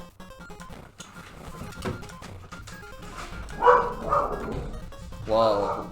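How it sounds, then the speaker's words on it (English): Dogs barking in the Action 52 video game collection, a few sharp electronic barks rising out of a busy game soundtrack, loudest near the middle and again at the end. "Whoa, why would they bark like that?"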